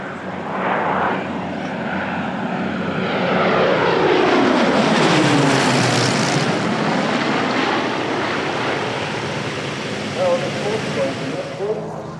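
A Hawker Hurricane's piston engine roars as the fighter passes overhead, loud propeller drone swelling to a peak and then sliding down in pitch as it recedes, with a steady rush throughout.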